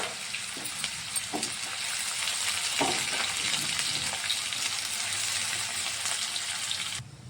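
Onions, curry leaves and chillies frying in hot oil, a continuous bright crackling sizzle with a few clinks of stirring, close and steady throughout.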